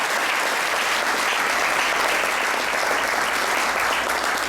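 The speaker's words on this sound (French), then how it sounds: "Acclamez pour monsieur l'administration." An audience at a formal ceremony applauds loudly and continuously, a dense wash of clapping that fills the whole stretch with no pause.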